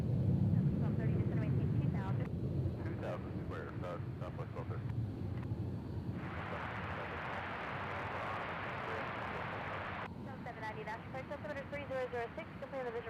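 A Delta airliner from Dallas on approach to Nashville International Airport, a steady broad engine roar and wind rush mixed with radio chatter and voices throughout.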